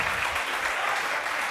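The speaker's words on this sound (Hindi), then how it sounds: "ताली बजाओ भाई के लिए" A classroom of students applauds a classmate with steady, dense clapping that fills the whole moment, loud and close with no talk over it.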